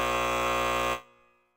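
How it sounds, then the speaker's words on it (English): A flat electronic buzzer blares loud and sustained for about one second, then cuts off abruptly, leaving near silence. "Let me give myself the buzzer."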